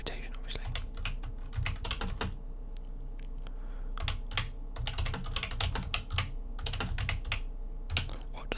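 Keyboard typing in a whispered university-chat ASMR setting: steady bursts of close, crisp key clicks with short pauses, moderately loud and mostly alone, with faint breathy whispering in places.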